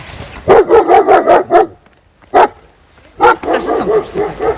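A dog barks in a rapid burst of about five barks, then a single bark and another cluster, loud and close, with speech-like sounds overlapping in the background.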